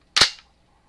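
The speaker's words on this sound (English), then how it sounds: "bolt release is back here. So, bolt release." Bolt release on a Desert Tech MDR .223 rifle, a single sharp metallic snap, close and loud, decaying quickly into silence.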